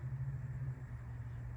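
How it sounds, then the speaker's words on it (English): Road traffic outside a house at S Robb St in Littleton makes a low, steady rumble of passing vehicles, heard alone from a distance. "you can definitely hear the traffic out here"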